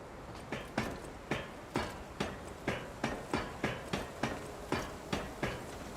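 A weapon being ground at a grinding station in the Lies of P video game, about a dozen evenly spaced sharp metallic strikes landing roughly every half second, close and steady, with no talk.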